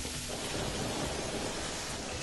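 Rain falls at night in the video game Terraria as a constant, even hiss that runs unbroken at a moderate level, with no talk over it.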